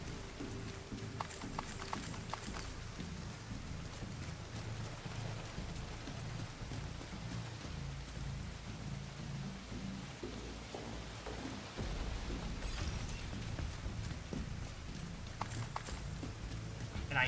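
Rain falls steadily in a video game on Master difficulty, a soft, continuous patter with faint clopping and occasional low rumbles in the background, low in level and with no voices.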